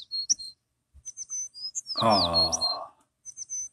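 Bright, high bird chirps from a Zenfone 3 camera app come in short bursts, with a brief spoken exclamation in the middle; fairly quiet and close.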